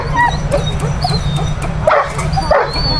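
A dog out on a run gives short yips and whimpering cries over steady outdoor background noise, with a couple of louder bursts toward the end.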